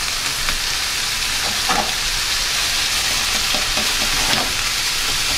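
Mushrooms and hamburger patty stir-fry in a pan, a continuous loud sizzle broken by occasional scraping stirs, with no voices.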